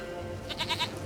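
A goat in The Witcher 3 gives a short quavering bleat, close and clear, over a low game ambience.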